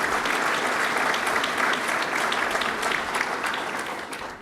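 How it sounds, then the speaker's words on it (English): Steady, dense applause from an audience honoring legislative leaders Senator Skelos and Speaker Silver at a governor's business announcement in upstate New York, sustained and fairly loud for several seconds before tapering slightly at the end. "So let's give them a round of applause"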